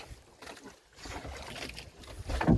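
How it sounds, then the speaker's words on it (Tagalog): Diesel engine of a small island fishing boat chugging at sea, a moderate low rumble mixed with wind and water noise that grows louder at the end. "Grabe yung makina oh."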